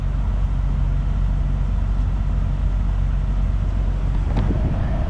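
A Jeep Wrangler 4.0 engine fitted with a Windstar cold air intake runs steadily at idle before a pull, a close, continuous low rumble that holds level throughout with no talk.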